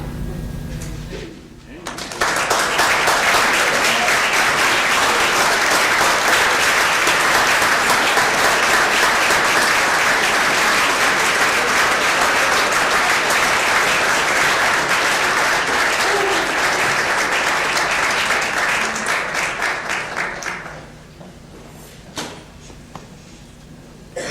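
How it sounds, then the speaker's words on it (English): A banquet audience bursts into loud, dense applause that swells in after a quiet moment, holds steady for nearly twenty seconds, then fades back to near silence. "Let's give her another round of applause"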